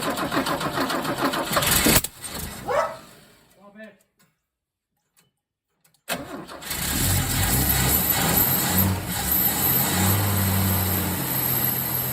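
A 1965 XP Ford Falcon wagon engine cranks briefly, stops, and after a short silence catches and settles into a steady, rumbling idle close by, with a person talking over the start.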